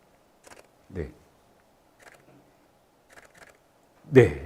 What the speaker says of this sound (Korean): 지금 제가 쓰는 EOS R인데요. 이 셔터 스피드를 뭐 다 들어보셨겠지만 이렇게 들어보면